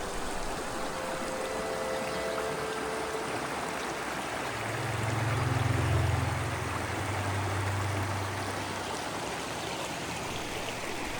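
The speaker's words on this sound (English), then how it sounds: "Love the sound of that water." Continuous rushing of creek water flowing in a forested state park, a steady broadband wash heard alone, with a low hum swelling briefly in the middle.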